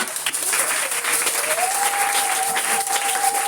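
A French-speaking church congregation breaks into loud, continuous applause, a thick wash of many hands clapping at once, with a sustained keyboard tone rising in the background.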